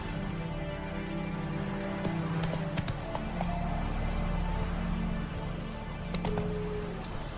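Hooves of the horse Roach clip-clopping in The Witcher 3, a soft steady rhythm under droning game music and ambience.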